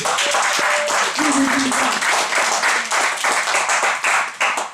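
A church congregation bursts into loud, sustained clapping and applause for an 18-year-old young man, the dense hand claps filling the hall evenly and then tapering slightly near the end.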